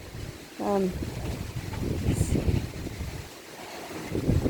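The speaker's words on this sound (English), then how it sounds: "It's probably a bit windy for you to be able to hear me now." Wind rushes and buffets the microphone in a steady outdoor roar, with a brief faint voice-like sound near the start.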